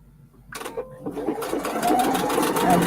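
A sewing machine stitches ribbon onto holiday gift wrap, a steady close whirring run that starts after a brief quiet and keeps going without a break to the end.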